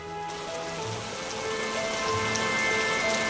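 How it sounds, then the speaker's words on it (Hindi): Steady rain falls in a cartoon story, a dense continuous hiss of drops drumming on surfaces, loud and even throughout with a faint tonal background hum underneath and no voices. "जल्दी ही बारिश रुक जाएगी।"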